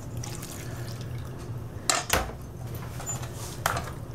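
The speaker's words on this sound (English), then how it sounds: "Go ahead and put all the water in there." Water poured into a mixing bowl of banana coffee-cake batter, a steady liquid wash with a couple of louder splashing bursts partway through, heard alone.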